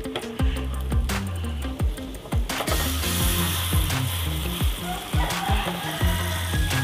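Milkfish sizzling and frying in a hot wok, a steady loud crackle with repeated scraping and clattering knocks as the fish is handled and stirred.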